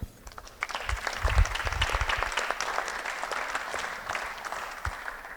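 Audience applause at an awards ceremony, a sustained burst of many hands clapping that swells early and holds steady for several seconds before slowly easing off, heard alone without talk.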